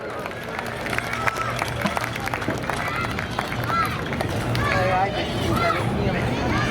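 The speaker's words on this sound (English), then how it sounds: "How about a round of applause?" A Seekonk Speedway crowd cheers a late model race winner in Victory Lane with clapping and whistles over a steady rumble of noise, while a voice talks over the scene.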